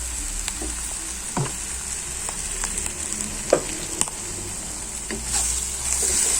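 Clam meat frying in oil in a home kitchen, stirred with masala: a steady close sizzle with scattered light taps and scrapes of stirring, with no talk.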